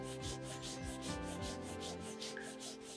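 A leather wallet edge is burnished by hand, giving steady, rhythmic rubbing strokes that sound close and continuous for a few seconds, with no voices.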